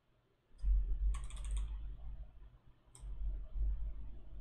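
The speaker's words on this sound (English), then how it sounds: "This is me pressing the F key on my keyboard." Computer keyboard being typed on while entering a math equation: a few crisp key clicks in short bursts over a quiet room hum, with no speech.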